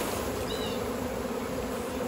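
Honey bees buzzing steadily at a hive as nurse bees are shaken down from an open brood frame, a dense, continuous hum close by with no talking.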